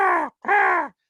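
A human voice imitates the classic adult raven call with two drawn-out, hoarse caws separated by a short pause.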